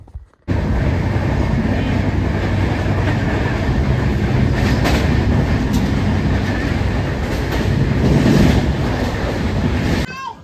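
A passenger train runs steadily along the rails, a continuous loud rumble with rhythmic clatter throughout, running late at night, with no talk over it.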